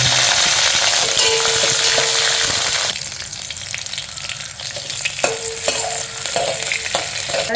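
Oil sizzles and crackles steadily in a pan, loud at first, then quieter after mustard seeds, dal and onion are added for tempering, with occasional stirring scrapes and no talking.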